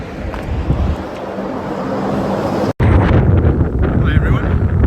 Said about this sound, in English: We're up the first bit, and it's slightly windy.